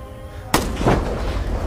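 A single sharp sniper rifle shot cracks out of a low background rumble in a film scene, followed by a brief echoing tail, with no voices.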